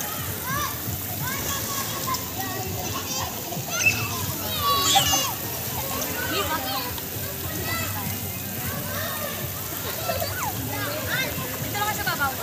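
Children swim and splash in a pool at Amana water park in Bulacan, with constant splashing and sloshing water. Many young voices chatter and call out over the top.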